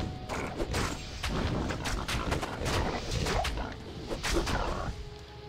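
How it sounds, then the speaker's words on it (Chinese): Explosions in the Diablo II video game during a Necromancer's combat, a dense run of sharp, loud bursts and crashes repeating over a busy, continuous game soundscape. "哦，爆炸了！"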